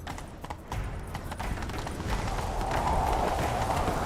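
Video game horse hooves clatter in a fast, continuous gallop under a rising rush of wind and movement noise.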